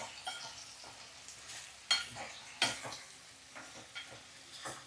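Brinjal cooks in a spiced tempering in a pan, giving a low continuous sizzle with intermittent stirring scrapes and a couple of sharper clanks of the spoon against the metal.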